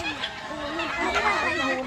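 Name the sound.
chicken rooster clucking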